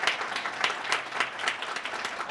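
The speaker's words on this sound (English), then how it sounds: "let's have a round of applause for Sue Jones" Audience at a chamber of commerce multicultural business forum giving a round of applause, a steady patter of many hands clapping at moderate volume.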